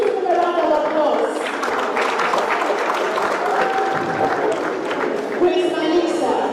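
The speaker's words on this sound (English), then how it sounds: "Can we please give him a round of applause?" A crowd applauds loudly and continuously at a Nigerian Independence Day presidential candidates' event, a dense wash of clapping that carries through the whole stretch with voices mixed in.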